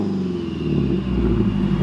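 A car with a backfire tune idles and revs under launch control, a loud, close, rumbling engine with burbling low pops over a brief stretch.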